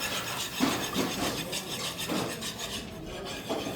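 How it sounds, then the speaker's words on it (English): Eggs for French toast are whisked in a bowl, producing a steady run of quick, close scraping and rubbing strokes. "whisk the eggs"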